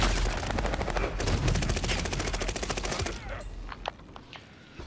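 Rapid video game gunfire rattles in a dense, loud automatic burst for about three seconds, then cuts off to quieter game ambience with a few scattered clicks.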